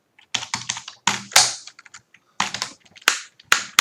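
Keys clack on a computer keyboard as an integer is typed, landing as close, crisp keystrokes in quick clusters separated by short pauses, with no voices.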